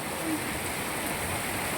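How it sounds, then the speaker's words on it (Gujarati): Broadband, steady hiss of heavy monsoon rain pouring down in Moti Gop, Gujarat, even and unbroken over the short stretch. "મસ્ત વરસાદ ચાલુ છે અત્યારે"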